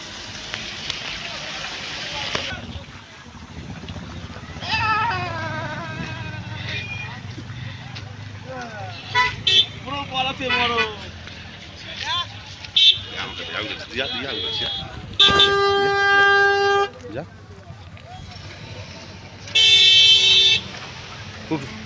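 Vehicle horns toot in short bursts and longer blasts amid heavy traffic on a mountain road where yaks are nearby, with engines rumbling and people talking throughout.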